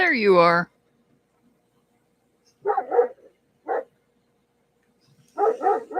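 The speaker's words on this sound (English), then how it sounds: "Sorry about the dogs barking." Dogs playing outdoors on an overcast day bark in a few sharp, separate bursts, loud and fairly close, with brief pauses between and a short spoken phrase nearby.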